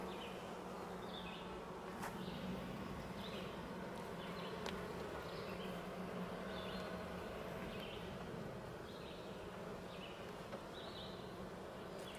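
Honey bees hum around an open hive, a steady close buzz with individual bees droning past now and then, and no voices.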